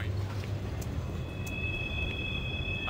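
Monorail train in Doom 3 leaving the Environmental Reprocessing Center, a steady rumbling rail hum with low drone and a high whine entering midway, sustained without breaks.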